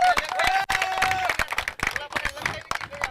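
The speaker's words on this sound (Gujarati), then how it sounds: "જોરદાર તાળીઓ મિત્રો" A crowd at the GTPPL 2025 final prize distribution applauds the champion team, with bursts of clapping mixed with voices and cheering chatter throughout.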